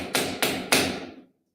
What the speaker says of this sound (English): That is clearly a tapping because you're holding the phone in the middle of the room.